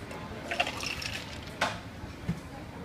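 Soda water being poured into a mango mojito, a soft liquid fill with a few faint clinks and splashes, quiet and close.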